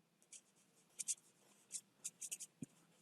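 Pen or pencil strokes on paper while working out a math percentage problem by hand, a quiet scratchy series of short bursts, some in quick clusters, close and faint with no talk.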